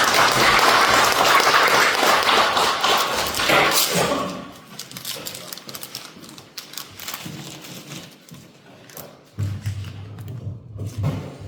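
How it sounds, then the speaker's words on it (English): Applause and clapping from an audience at a Saluda County Republican Party evening meeting, loud and dense for about four seconds, then fading into scattered claps and room noise. "So I would like for everybody to join me in giving Paul Dan a big round of applause."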